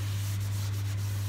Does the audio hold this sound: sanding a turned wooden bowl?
yes